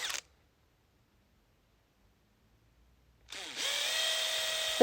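Cordless drill boring a small hole: a short burst, a long silence, then the motor spins up and runs with a steady high whine, ending in a sharp louder squeal as the bit bites.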